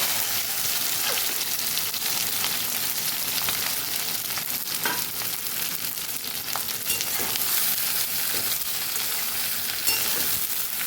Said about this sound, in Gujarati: ભીંડાને આપણે ફ્રાય કરવાના છે